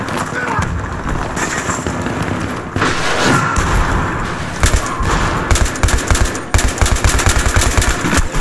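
M240B machine gun fire in Battlefield 3 on the Ziba Tower map, loud sustained bursts of rapid automatic fire mixed with explosions and chaotic battle noise, with a voice talking over parts of it.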